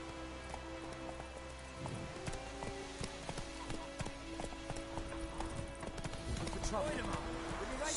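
A horse trotting and galloping in The Witcher 3, rhythmic clip-clop hoofbeats that quicken and grow louder across the stretch, over steady game ambience and music.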